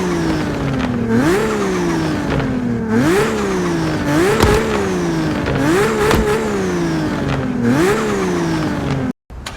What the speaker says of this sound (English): Supra sound test